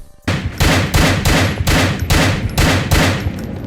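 Enemy gunfire in GTA 4 rattles out in about eight loud, evenly spaced bursts of rapid shots, close and continuous with no talking.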